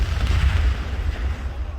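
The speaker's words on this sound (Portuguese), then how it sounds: "Veja novamente o momento da explosão, de outro ângulo." Controlled nighttime detonation of an explosive mass near a house, caught in news footage as a deep, rolling boom that rumbles loudly and fades over about two seconds.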